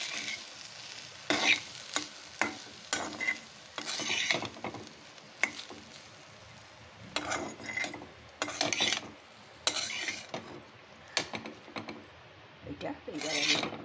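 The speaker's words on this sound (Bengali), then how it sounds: "যে ভাতটা আমি রেখেছিলাম সেই ভাতটা দিয়ে একটু মিশিয়ে নিচ্ছি" Cooked rice being stirred and mixed in a pan for curd rice, a run of scraping, rubbing strokes in irregular bursts, fairly close and moderately loud, with no talk over it.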